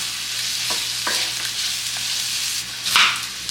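Food being stirred in a pot during home cooking: soft scraping strokes and a low sizzle close by, with a brief louder clatter near the end and no talking.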